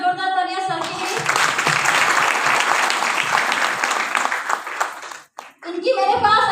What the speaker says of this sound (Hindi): मैं चाहूंगी कि एक बार जोरदार तालियां सर के लिए।